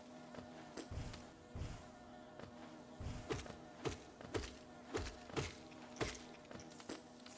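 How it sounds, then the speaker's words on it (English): Insect buzzing from flies in the game Hollow Knight, a faint droning hum broken by repeated soft thumps and clicks that come in a loose, regular rhythm, with no talking. "I hear the buzzing of flies."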